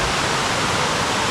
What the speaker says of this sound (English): So this is a mini waterfall.